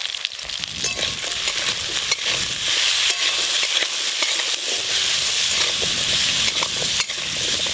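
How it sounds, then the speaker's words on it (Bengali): Washed taro pieces frying in hot mustard oil in a kadai, a steady loud sizzle with stirring and scraping throughout, no talk. "তেল তো গরম হয়ে গেল, কেটে ধুয়ে রাখা কচুগুলো দিয়ে দেব"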